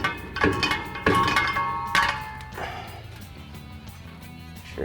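A muffler section is pushed onto a slip joint on an AWE dual exhaust fitted to a 2019-2024 Silverado or Sierra 1500, with three hollow metallic thunks and clanks in the first two seconds, then a fading ring.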